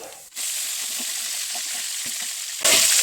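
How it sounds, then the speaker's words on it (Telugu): Fenugreek seeds, seasoning seeds, turmeric and green chillies fry in oil in a kadai, making a loud, steady hissing sizzle that jumps in strength near the end as more goes into the pan. "పొయ్యి ముట్టించి బాండీ పెట్టి కొంచెం నూనె వేసి మెంతులు, తిరగమాత గింజలు, పసుపు అన్నీ వేసి వేగిన తర్వాత పచ్చిమిరపకాయలు వేయాలండి"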